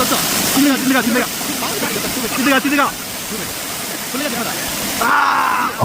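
A waterfall pours forcefully onto people below, a loud, steady broadband rush that runs throughout while someone talks over it.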